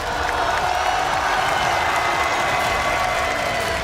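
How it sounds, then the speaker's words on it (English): A large arena crowd at a League of Legends esports tournament applauds and cheers in a steady, dense wash of clapping that fills the space without a break. "Mesdames et messieurs, on peut applaudir HLE2"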